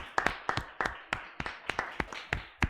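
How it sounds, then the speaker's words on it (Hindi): Students in a classroom give themselves a short round of applause, about a dozen separate, fairly close claps in an uneven rhythm from only a few pairs of hands, with no talking over them. "एक बार खुद के लिए ताली बजाओ"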